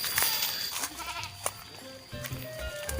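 A goat bleats in short wavering calls near a Japanese-era cave, heard close and fairly loud over outdoor background noise, with no speech.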